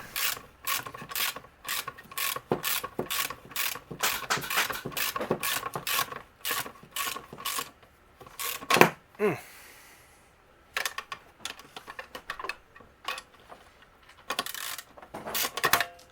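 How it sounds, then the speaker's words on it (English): Ratchet socket wrench without an extension tightening a bolt on a 1951 Ford truck, bursts of rapid clicking ratchet strokes close by, pausing briefly midway with a clank and a scrape before the clicking resumes more sparsely. "Have to use just the socket and no extension."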